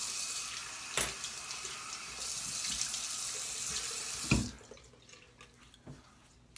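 Tap water runs steadily into a sink for about four seconds while a straight razor is rinsed, with a couple of knocks against the basin, then cuts off, leaving faint drips in a quiet room.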